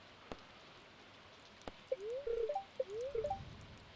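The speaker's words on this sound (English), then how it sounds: "It's raining." Steady soft rain falls in the video game Stardew Valley, a constant hiss with a few faint taps, while a small bird chirps twice near the end.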